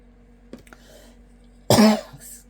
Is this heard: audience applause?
no